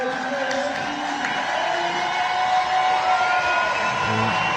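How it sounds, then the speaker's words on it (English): Crowd at a women's rugby match, Edinburgh Rugby against Wolfhounds in the Celtic Challenge, cheering as the team runs out, a sustained roar with whoops rising toward the end, and a commentator talking over it. "we can hear the crowd noise as out come Edinburgh Rugby"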